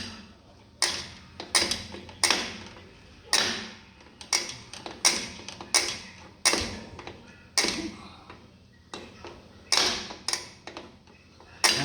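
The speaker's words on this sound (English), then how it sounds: "you can take a screwdriver in the front, and you can just tap it like that, and it adjusts down" A screwdriver tapping the adjuster of a drum brake on a 1969 Mustang, sharp metallic ticks and clicks in an irregular series of more than twenty hits, close up and loud with small gaps between, no talk.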